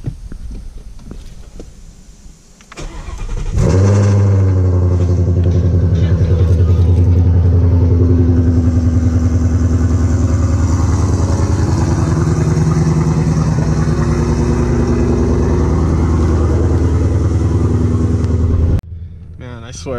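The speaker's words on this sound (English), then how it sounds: "Little cold start." A Mercedes car engine cold-starts with a burst near 3.5 s, then settles into a loud, steady high idle with strong low rumble that runs unbroken close by until cutting off near 19 s; a voice is audible briefly before the start.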